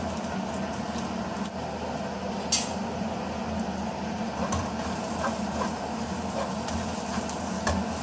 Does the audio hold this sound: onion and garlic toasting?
yes